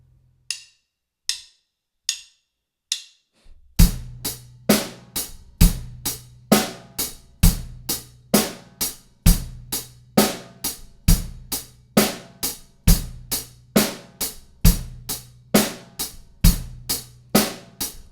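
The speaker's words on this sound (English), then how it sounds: "Now we have hi-hat on all eighth notes and bass drum on 1 and 3" A few sparse hits, then a steady drum kit groove with eighth-note hi-hat, bass drum on 1 and 3 and snare on 2 and 4, loud and close, repeating evenly.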